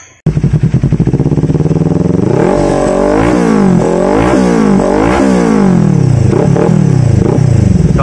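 A Kawasaki Ninja 400 fitted with an Akrapovic slip-on muffler revs hard and close, its engine note rising and falling in repeated throttle blips over a steady loud idle.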